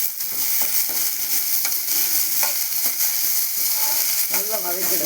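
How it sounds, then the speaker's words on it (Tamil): Chopped large onions sautéing in a pan for a lentil dumpling curry, with a steady close sizzle and repeated stirring scrapes throughout, no voices heard. "பெரிய வெங்காயம் வெட்டி வச்சு தான் போட போகிறேன்."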